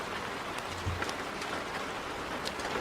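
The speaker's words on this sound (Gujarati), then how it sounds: "કેટલો સરસ વરસાદ આવે છે" Steady, soft patter of rain falling on a surface, a continuous hiss with occasional individual drops standing out.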